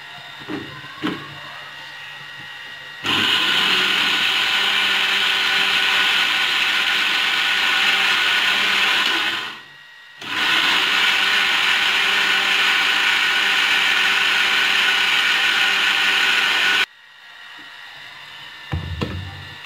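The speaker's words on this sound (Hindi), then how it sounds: "और अभी इसे हम दोबारा ब्लेंड करेंगे" Electric blender grinds soaked lentils with water and cumin, a loud steady whirring roar that starts after a few quiet seconds, briefly cuts out and restarts, then stops with faint handling knocks after.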